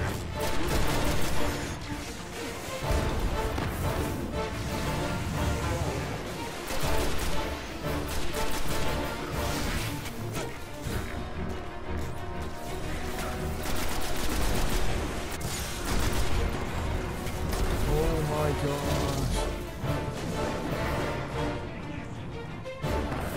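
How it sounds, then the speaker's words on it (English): Dense, continuous gunfire in the PS4 game Destiny, rapid overlapping shots and bursts with crashes and booms running loud and steady throughout. "Shooting at me now."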